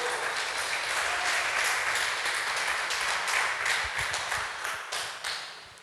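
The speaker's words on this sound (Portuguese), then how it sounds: "E você que acredita, dê um aplauso ao Senhor." Congregation in a church clapping and applauding together, a dense steady wash of many hands that holds strong and then thins and fades toward the end.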